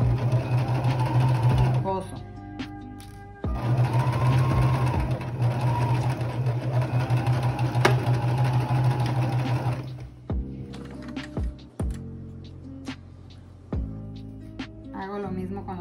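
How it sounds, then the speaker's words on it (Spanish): A sewing machine stitching darts in fabric, running in two long close bursts of steady rapid whirring, then stopping for short clicks and handling sounds; no talk heard. "Voy a pasar a la máquina para coser."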